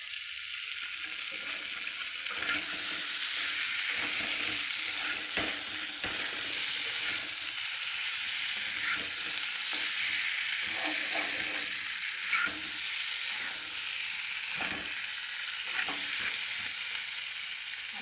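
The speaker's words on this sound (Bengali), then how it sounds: "বন্ধুরা মাংস রান্না করছি" Meat frying in a pan with too little oil makes a continuous hiss, broken by repeated scraping and clicking strokes of a spoon stirring it, close and fairly quiet, with no talking.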